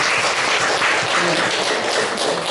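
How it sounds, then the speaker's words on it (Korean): Applause in a lecture room at the close of a teaching session, a short burst of many hands clapping at moderate volume, dense and even throughout, with no talk over it. "박수."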